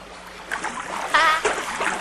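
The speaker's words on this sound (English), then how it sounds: "Swish the water about a bit." Hands swish and splash water in a pond in the Milo game for Xbox 360 Natal, a few short, close sloshing splashes and trickles over about two seconds.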